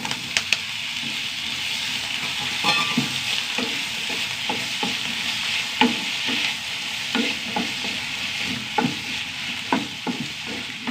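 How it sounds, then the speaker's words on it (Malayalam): Onions and tomatoes sautéing in a pan give a steady, close sizzle, broken by frequent scraping clicks of a stirring utensil, with no talking. "സവാള ചെറുതായിട്ട് വഴണ്ട് വന്നു ഇതിലേക്ക് രണ്ട് തക്കാളി"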